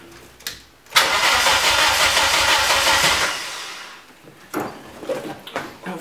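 Car engine cranking over on the starter during a crank position sensor test on a Megasquirt ECU build: a sharp onset, then about two seconds of steady loud churning cranking that fades out, with clicks and brief bursts afterward.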